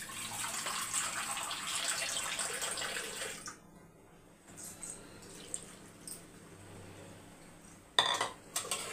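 Water pours into a pressure cooker in a home kitchen: a loud, rushing stream for a few seconds, then quieter trickling with faint clinks of metal utensils.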